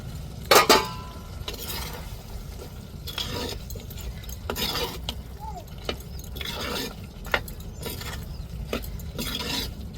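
A spoon stirs mutton chukka in a pan, making irregular scraping and clinking strokes at close range over a low background hum, with a louder knock near the start.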